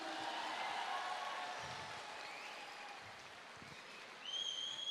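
An audience at a seminar or stage event claps in a steady, faint wash of applause that holds evenly and thins slightly toward the end, heard from a distance without clear voices.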